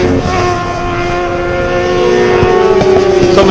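Racing motorcycles in a 600cc class roar past at Virginia International Raceway, a loud, sustained engine drone with shifting whining tones that swells toward the end, with no one talking.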